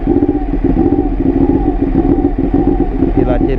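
A Ducati Panigale 1199S motorcycle engine starts and runs with a loud, throbbing idle rumble close by, steady throughout with a slight rise near the end.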